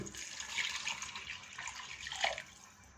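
Six cups of water run steadily into a pot of chicken pulao for a few seconds, a broad splashing rush that swells slightly near the end, with no voices.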